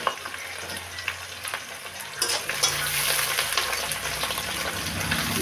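Whole chilies fry in oil in a pan for breakfast pasta, a close crackling sizzle with stirring scrapes that grows louder and denser partway through, with no talking.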